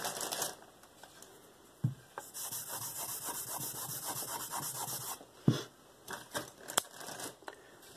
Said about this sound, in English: Now I'm stropping. I'm using just the weight of my hand with the knife.